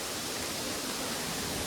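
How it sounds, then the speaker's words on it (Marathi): A waterfall's steady broadband rush fills the whole moment, loud and continuous with no pause or voices over it. "हा बघा धबधबा"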